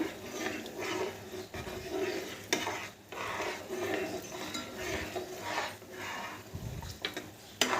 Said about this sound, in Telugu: ఇదిగోండి బియ్యం పిండి మిశ్రమాన్ని పోస్తున్నాను. పోస్తూ కలబెట్టుకోవాలండి